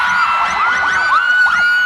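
Live audience at a comedy concert cheering, whooping and shouting loudly and continuously, with a steady high whistle over the crowd noise; applause is not clearly separable.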